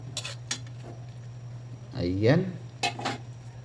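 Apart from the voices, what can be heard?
stirring sautéed string beans and chicken liver in a pan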